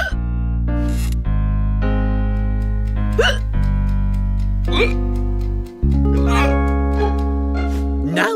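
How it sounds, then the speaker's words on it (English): A cartoon boy hiccups repeatedly, sharp loud gulping squeaks at irregular intervals over a sustained musical backing, with a voice speaking between them. "Oh, I've got to get rid of these hiccups."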